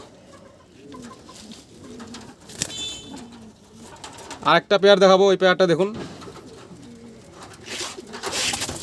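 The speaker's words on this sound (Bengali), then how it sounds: "সব চমৎকার পায়রা আজকে মেয়াদাসি পায়রা যারা পোষেন" Madrasi tournament flying pigeons kept in a loft give throaty cooing, with one loud, close burst of calls in the middle, while someone talks throughout.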